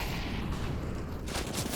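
Dense rapid AUG rifle fire and in-game noise from a competitive Counter-Strike match on Cache, a continuous loud clatter of shots with no pause.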